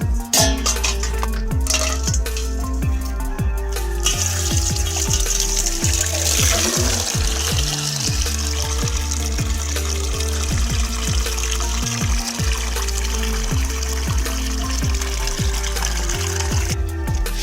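A pet called Charger laps at water, wet slurping and trickling sounds running steadily at close range with some clinking against a dish.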